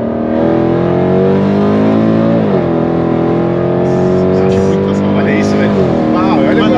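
A loud Mercedes-Benz C63 engine holds a steady high roar, with pitch dips and rises as it shifts and accelerates, continuous throughout.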